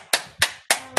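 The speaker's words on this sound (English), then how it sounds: "two hands together and give yourselves a clap" A group claps hands together at an outdoor football club fitness session, four sharp, loud claps in an even rhythm, each close and alone.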